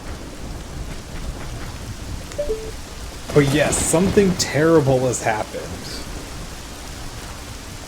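Steady rain and a thunderstorm in the Zelda Ocarina of Time video game, a constant wash of rainfall under game music and a character's spoken line in the middle of the scene.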